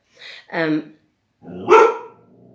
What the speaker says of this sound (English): There are dogs passing by that just shouldn't be there.